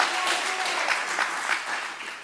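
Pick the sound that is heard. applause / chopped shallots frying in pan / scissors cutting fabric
applause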